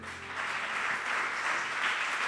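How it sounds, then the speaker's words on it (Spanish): A church congregation applauding steadily, a dense wash of clapping from many hands throughout. "denle un fuerte aplauso al Señor"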